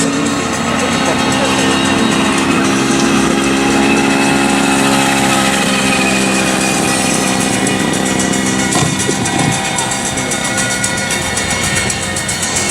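Derny pacing motorbike engine droning steadily at a cycle track race meeting at Herne Hill, a continuous loud motor hum with crowd noise and a commentator's voice over it.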